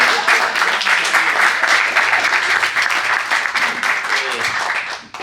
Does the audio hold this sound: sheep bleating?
no